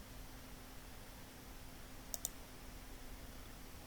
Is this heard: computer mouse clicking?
yes